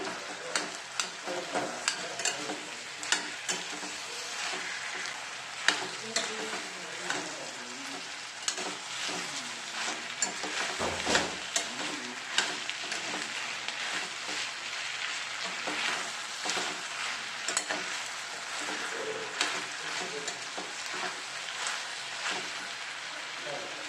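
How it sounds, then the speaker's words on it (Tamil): Chopped tomatoes sautéing in a hot pan for a tomato-mint chutney, with a continuous crackling sizzle and irregular clicks of a stirring spoon, close up throughout. "தக்காளி வந்து நல்லா வதங்கிடட்டும்"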